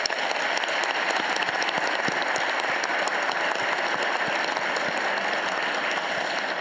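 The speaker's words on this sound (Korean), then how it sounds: "우리 박수 한번 보내드리세요." Sustained applause from a large audience at a town hall meeting in North Chungcheong, South Korea, dense steady clapping at an even loudness throughout with no voices standing out.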